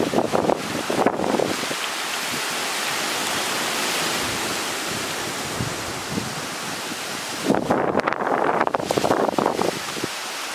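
Light rain sprinkles outdoors as a steady, even hiss throughout, with a couple of louder rustling bursts near the start and toward the end.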